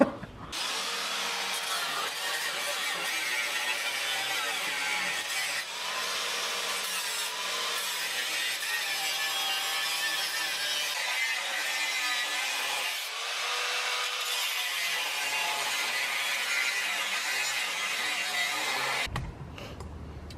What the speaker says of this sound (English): All right, guys, so I got the bumper cut out.